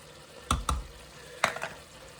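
Creamy garlic chicken in a pan being mixed with Parmesan-style Grana Padano cheese: two quick spoon scrapes, a pause, then another pair of stirring knocks over a faint simmering sizzle.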